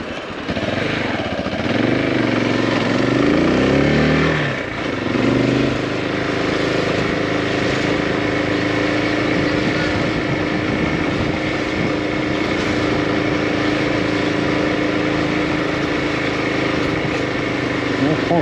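Motorcycle engine running while riding through a town, a steady loud drone with shifting pitch throughout, with traffic and street noise around it.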